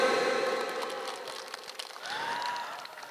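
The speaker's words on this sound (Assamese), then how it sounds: "আয়োজক সমিতিৰ কাৰণে এটা বিশাল চিঞৰ মই বিচাৰিছোঁ এটা হাত চাপৰি" An audience at a Bhogali evening cultural programme claps and cheers in a brief burst that fades, set against a sustained musical tone from a public address system.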